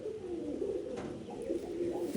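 A white-eyed pigeon, one of a Malawi pair kept at home, gives a low steady coo that rises and falls in soft repeated phrases, close and alone.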